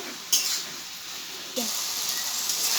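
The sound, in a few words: kalmi greens (water spinach) sautéing in a pan with salt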